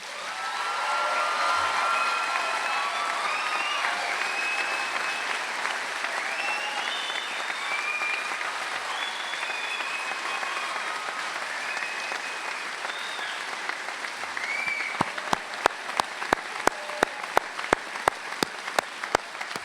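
Thunderous applause from families and loved ones at a dentistry college commencement, a steady, broad wash of clapping and cheering that holds for the whole stretch, with sharp regular knocks near the end.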